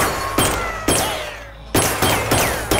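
Gunfire in Suicide Squad, several loud, sharp shots or bursts spaced irregularly with short ringing decays between them, no talking heard.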